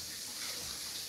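Water runs from a tap into a bathtub or sink in a steady, soft hiss during cleaning, continuous and fairly quiet with no talking.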